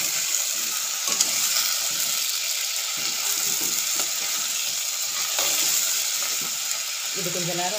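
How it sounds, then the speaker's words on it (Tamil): Mango pieces sauté in a hot pan for a village-style mango curry, giving a steady dense sizzle with occasional stirring scrapes and clicks; a brief voice enters at the very end. "இது கொஞ்ச நேரம் அதுலேயே வதங்கட்டும்."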